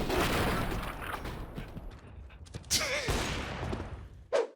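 Gunfire in the video game Counter-Strike, bursts of rapid shots and sharp cracks with mechanical clicks, rising and falling in intensity and trailing into quieter gaps.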